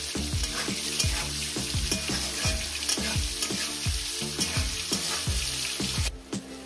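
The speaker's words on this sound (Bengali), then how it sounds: "দিয়ে এটাকে আমি 2 মিনিট ভেজে নেব।" Chopped onion with salt frying in a pan for a jackfruit curry, a steady loud sizzle punctuated by a regular series of sharp scraping stirs from a spatula, with no voices.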